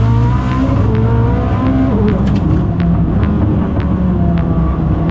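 A Koenigsegg production street car runs on a race track, its engine droning and climbing in pitch as it accelerates, with repeated sharp clicks and a loud, close, continuous roar.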